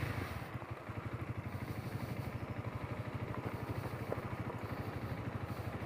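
A Honda CRF300L motorcycle carries two riders on a country ride, its single-cylinder engine thrumming in a steady, even pulse at moderate distance beneath faint wind noise, with no voices.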